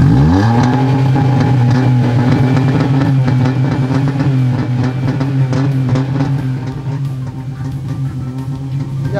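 Tuned car at a tuning-car event, its engine revving loud and close with a deep, steady roar that holds for several seconds.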